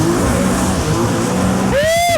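A Yamaha JetBlaster PRO jet ski with a TR1 engine roars steadily up close, then its pitch sweeps sharply upward as it revs near the end, with a voice briefly heard over it.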